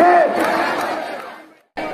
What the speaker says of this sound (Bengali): তারা মূল সড়ক অবরোধ করে স্লোগান দিতে থাকেন।